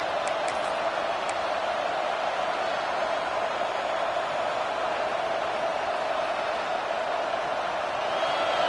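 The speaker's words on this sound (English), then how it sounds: "It's early, but this crowd is fired up. Listen to this noise here." Stadium crowd noise in the College Football 26 video game, a loud steady roar of a fired-up home crowd holding constant throughout, smooth and unbroken with no distinct voices standing out.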